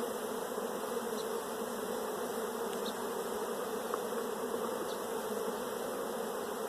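Dense, steady buzzing of many honey bees around a large, busy hive being worked close by, a continuous drone with no voices.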